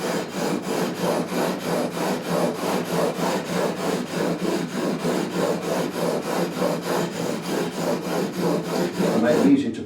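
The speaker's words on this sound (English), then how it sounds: "now just use a 400 grit to smooth off these scratches" Sandpaper of 400 grit rubs over the frets on the neck of an Epiphone AJ220 acoustic guitar in quick, even back-and-forth strokes, a close and steady rasping rhythm with no talking.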